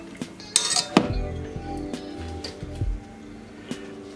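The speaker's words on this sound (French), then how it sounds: "j'ai mon petit fouet pour remuer" A small whisk stirring a roux in a pan while making a velouté for blanquette de veau, giving close metallic clinks and scrapes against the pan, with a sharper knock near the start and lighter taps after.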